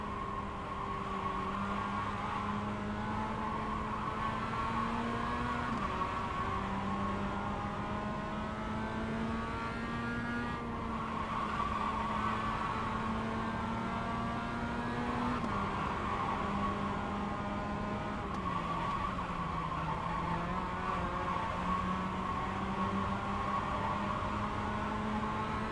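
A Mazda MX-5 race car engine drones steadily on track at Las Vegas, a loud close in-car sound holding high revs with slight pitch dips at gear changes and no breaks throughout.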